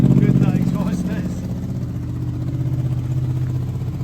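A 2007 Honda VFR800 motorcycle idles close by, its exhaust giving a steady, pulsing low burble that holds an even rhythm for several seconds.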